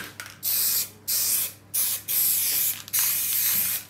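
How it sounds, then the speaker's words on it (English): Spray glue from an aerosol can is applied to a board before covering it with fabric: four loud, close bursts of hissing spray, each about half a second long, separated by short pauses. "So you just spray the glue on the upper side and on the sides."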